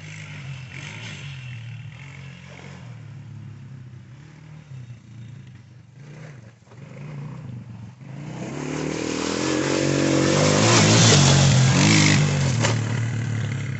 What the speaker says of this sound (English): why don't you take it for a quick rip, Chris? And he will take that. See, as he clicks it in gear